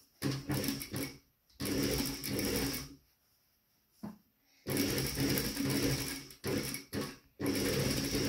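A sewing machine stitches a handbag seam made from recycled material, 1 cm from the edge, in loud bursts of rapid whirring separated by short pauses and one longer silence.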